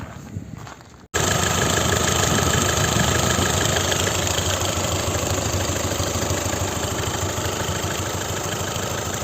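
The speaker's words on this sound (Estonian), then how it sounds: "laseme mootori häält ka." After a brief moment of quieter sound, a 2009 Kia Ceed engine starts up and settles into a steady, loud idle, running evenly close by with no extra noises.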